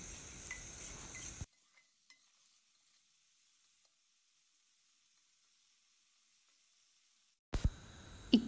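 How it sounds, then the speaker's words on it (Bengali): Potatoes and cauliflower sizzle in hot oil with salt and turmeric while being stirred in a pan, loud and close for a second and a half, then near silence before a few clattering stirs at the end. "আর এখন লবণ আর হলুদটা দিয়ে খুব ভালো করে আলু আর ফুলকপিগুলোকে মিশিয়ে নেব আর কিছুক্ষণ ভাজা ভাজা করে নেব।"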